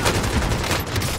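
Continuous gunfire in a Call of Duty-style online shooter, a dense burst of rapid shots filling the whole moment at close range with no voices over it.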